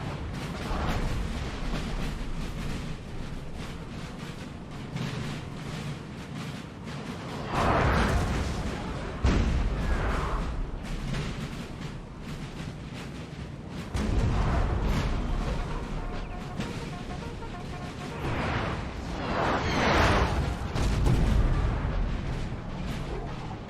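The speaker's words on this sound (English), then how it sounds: "The artillery are dueling back and forth for now." Artillery batteries trade fire in a Napoleon Total War battle, a steady rumble of cannon booms and distant blasts rolling on and off, with heavier bursts swelling every few seconds over continuous battlefield noise.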